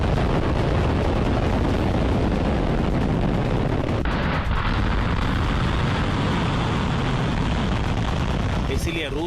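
Russian missile test launch, a loud continuous rumbling roar of rocket exhaust that stays dense and unbroken for about nine seconds, with a brief crackle toward the end.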